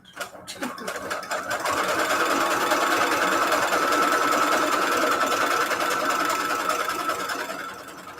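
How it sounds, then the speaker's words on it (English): A sewing machine runs continuously, stitching around the edge of a piece of fabric, its fast even whirr steady and close after a brief start. "just throw the edge, put the edge through, and it sews around the edge"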